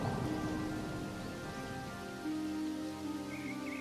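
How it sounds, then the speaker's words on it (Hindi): Steady rain falls throughout a Hindi animated story, a dense constant hiss with faint tonal music running underneath. "जब तक कि यह बारिश नहीं थम जाती।"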